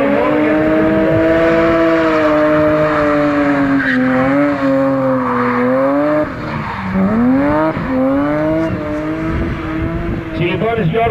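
A BMW with a 3600 cc engine drifting at a kart track, its tires squealing loudly in long sweeping wails that rise and fall with the engine note throughout, close and continuous.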